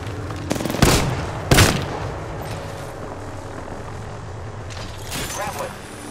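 Sharp bursts of gunfire in Apex Legends, two loud cracks close together early on, then a fainter rattle later, over constant game ambience and chatter.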